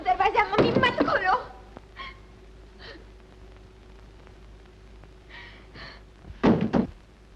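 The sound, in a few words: door being opened and slammed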